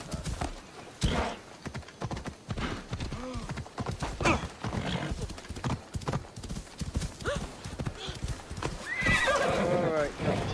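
A horse in Assassin's Creed Odyssey clip-clops along with rhythmic hoofbeats and lets out whinnies, close and clear, while someone talks over it.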